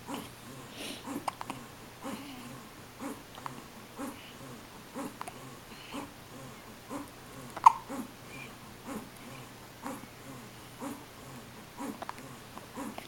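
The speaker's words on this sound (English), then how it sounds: "she's got the hiccups" A baby girl hiccups repeatedly after a feeding, soft close jerky catches recurring every second or so, with faint breathing and small vocal sounds between them.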